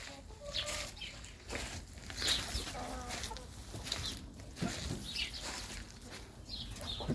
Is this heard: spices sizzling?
no